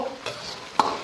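Sweet bean sauce and soybean paste stir-fry in a wok with minced meat for fried sauce noodles, a close sizzle with two quick spatula scrapes within a brief moment.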